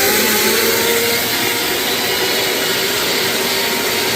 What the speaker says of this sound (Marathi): ते आता मिक्सीमध्ये बारीक करून घेतो